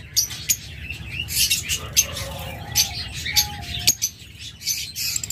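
A yellow pair of pet birds, lovebirds or cockatiels, chirp in short, bright, repeated tweets, with one or two longer whistled notes, heard fairly close and moderately loud with no talking over them.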